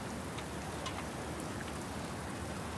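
Steady rain pours down in a dense, even hiss of drops striking surfaces, with no voices or other sounds over it.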